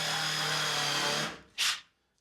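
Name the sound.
Makita drill with countersink bit drilling through wood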